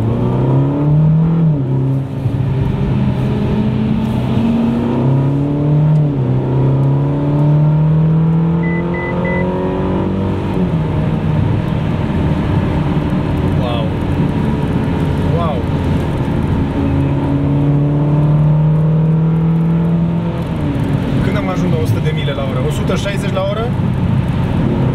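Ferrari California T accelerating hard, its engine note climbing through rising harmonics across repeated gear pulls, loud and close throughout, with someone talking over the engine.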